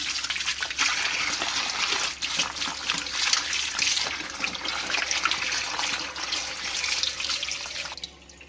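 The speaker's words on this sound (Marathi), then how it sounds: "दुसरं पाणी घालून आपण धुवूया." Steady splashing and swishing of water as potatoes are rinsed and rubbed by hand in a basin, continuous and close, with no voices.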